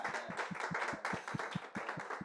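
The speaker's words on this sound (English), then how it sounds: "I'll give a round of applause to them" A jazz club audience applauds the band with quick, steady, close clapping that carries through the whole short stretch.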